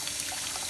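Lukewarm water pours from a shower head onto salty, cracked soil, giving a steady, close, soft splashing hiss that holds evenly through the brief moment with no voices.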